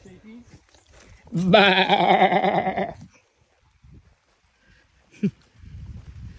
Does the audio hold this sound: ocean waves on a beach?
no